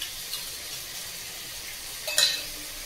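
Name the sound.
water added to chicken frying in a pan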